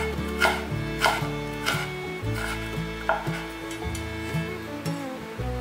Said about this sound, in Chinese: 再切丝